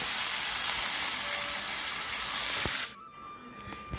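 Mashed cooked rice tipped into hot tempering in a pan makes a loud, continuous hiss close by, which drops off abruptly to near quiet shortly before the end.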